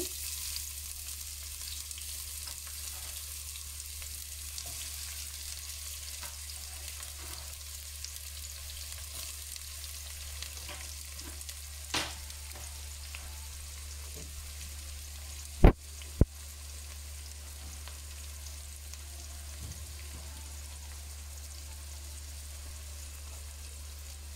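Chopped onions frying in a pan for a meat and sorrel stew, a faint, steady sizzle over a constant low hum, with a few soft clinks and two sharp knocks midway.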